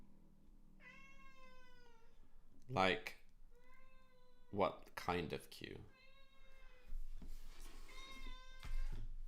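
A cat meows repeatedly in a room, several drawn-out meows spaced through the clip, close and clear, while people talk intermittently between and over them.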